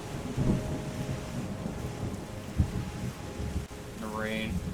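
Rain and rumbling thunder play in the ecological restoration video game Terra Nil, forming a steady hiss with low rolls. A voice can be heard underneath.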